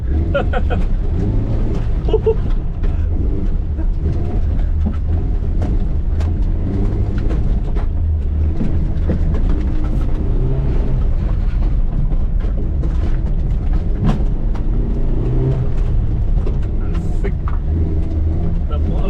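A stock Suzuki Jimny Katana engine drones loudly in second gear while the vehicle drives off-road through tall grass. The low rumble is constant, with body rattles and knocks over rough ground, and voices can be heard beneath it.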